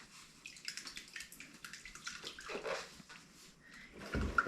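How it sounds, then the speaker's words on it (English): Water pours into a bucket in an uneven splashing stream with gurgles, fairly quiet and close, ending in a heavier slosh. "you'll pour right into the bucket of water"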